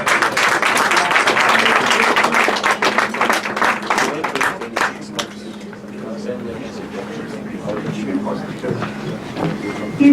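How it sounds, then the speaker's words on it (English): Dinner guests at a conference in the House of Lords applaud: dense, loud clapping for about five seconds, then fading into scattered claps under a speaking voice and a low steady hum. "Engineer with a clapping ovation."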